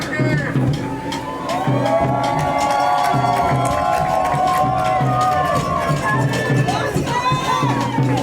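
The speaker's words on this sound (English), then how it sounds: "Crowd makes a little bit of extra noise for him." Stadium crowd at a Napa Valley 1839 FC versus Oakland Stompers football match, a steady roar of cheering and shouting swelling for a player on the ball, with a commentator's voice running over it throughout.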